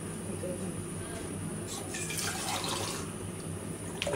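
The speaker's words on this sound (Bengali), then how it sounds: "একটু জল দেওয়া লাগবে।" Water poured into a cooking pot of shrimp, bottle gourd greens, eggplant and potato, a steady running, splashing pour beneath a low kitchen hum, with a brief voice partway through.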